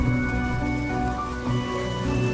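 Steady rain falling in Penacony in the game Honkai Star Rail, a soft continuous patter with drops on surfaces, under a layer of sustained musical tones throughout.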